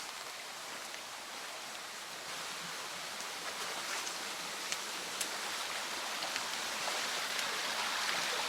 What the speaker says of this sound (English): I love the sound of the babbling brook